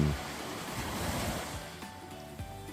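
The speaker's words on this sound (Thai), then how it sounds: "แล้วก็ลงมาฟังเสียงคลื่นทะเล ที่มีความสงบลมเย็น" Sea waves wash steadily onto a beach at Chao Lao, a broad continuous surf rush with light wind, close and fairly loud, no voices.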